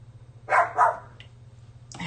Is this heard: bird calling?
no